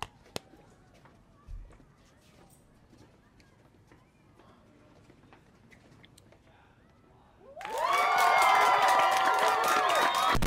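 Applause and cheering for a teacher's return break out suddenly after a quiet stretch of talk, a loud, sustained burst of clapping and crowd noise that fills the final seconds.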